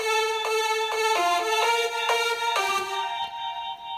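Layered synthesizer patches, a soft dream pad under bright bell tones, play a short melodic phrase of clear, evenly spaced notes that ring out and fade at the end.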